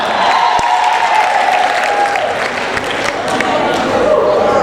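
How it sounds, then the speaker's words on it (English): Conference hall audience at a nurses' organization gathering claps steadily in a loud, continuous wash, with a voice and cheering carried over the top. "Give him another round of applause."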